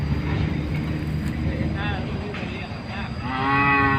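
Cattle lowing on a farm in green rice-field country, drawn-out moos rising out of a steady outdoor rumble, with someone talking over them.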